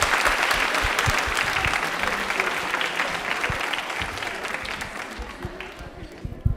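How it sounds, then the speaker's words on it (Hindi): A crowd applauds at an Indian Railways quiz event, giving a thick run of clapping with a few sharp individual claps. It gradually fades toward the end. "जोरों से इनके लिए ताली बजाती है, जोरों वाली"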